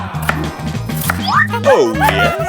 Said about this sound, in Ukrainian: Для початку наріжемо їх усі на невеликі шматочки